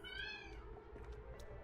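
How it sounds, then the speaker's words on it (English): A cat meowing at the front door, one drawn-out, fairly faint meow with a wavering pitch, followed by a few softer shorter cries over a low background hum. "There's a cat at the front door that's not happy with me."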